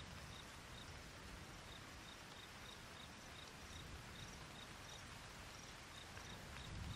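Steady rain falls in the video game Arma 3, a faint, even hiss with scattered light patter and a thin high chirping running throughout.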